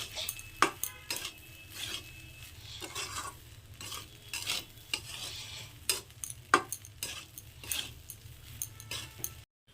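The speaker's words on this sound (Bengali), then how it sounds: "ভাতটা নুন চিনি সব ভালো করে মিশিয়ে নিয়েছি" Fried rice with egg and chicken is stirred in a pan with salt and sugar, giving repeated metal scraping and clinking over a faint sizzle and a low steady hum.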